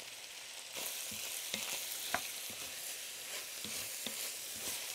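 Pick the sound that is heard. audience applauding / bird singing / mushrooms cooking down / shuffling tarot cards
mushrooms cooking down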